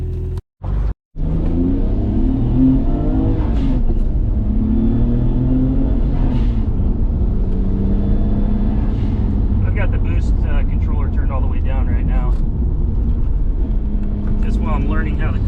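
A Nissan Skyline R32 fitted with Ikeya Formula front control arms climbs a winding hill road. Its engine rumbles loudly and steadily, revving and accelerating through the bends, with someone talking over it.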